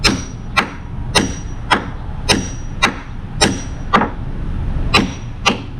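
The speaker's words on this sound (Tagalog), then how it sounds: "Martilyo." A hammer strikes a wooden post for a hut again and again, about ten loud, evenly spaced blows ringing out close by with no talking.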